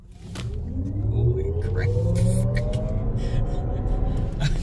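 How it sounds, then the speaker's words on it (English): A 2023 Lexus RX450h plug-in hybrid launches hard from a standstill, heard from inside the cabin: a steadily rising electric whine over a heavy road rumble that builds and holds, with a brief startled exclamation from an occupant. "they've said that this car can do 0 to 60 in about 4 seconds, right?"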